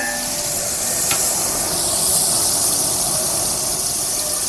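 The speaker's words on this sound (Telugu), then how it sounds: "ఉల్లిపాయలు అయితే దోరగా వేగినాయి" Onions fry in a hot pan for chicken curry, giving a loud, constant sizzle and hiss close up, with no one talking.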